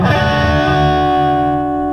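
Electric guitar through the green mode of drive channel 1 on a Bogner Ecstasy, a sustained distorted chord with dense harmonics ringing steadily and loud for about two seconds, alone with no voices.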